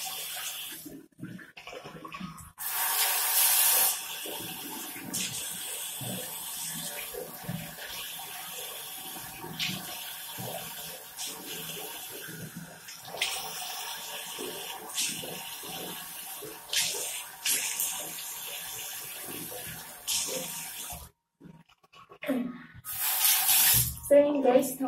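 Water runs from a tap while an armpit is rinsed, a steady close splashing hiss that starts after a few seconds, holds with small shifts in flow and cuts off near the end before a short final splash.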